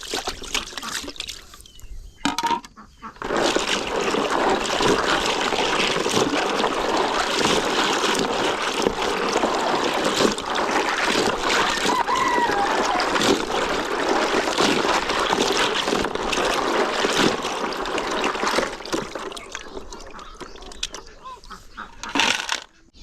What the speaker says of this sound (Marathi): हे आपण स्वच्छ पाण्याने धुवून घेणार आहोत तीन ते चार वेळा धुवून घ्यायचं